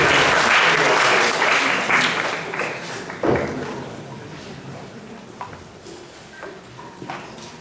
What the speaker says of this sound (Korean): 여러분 박수로 맞이해주시면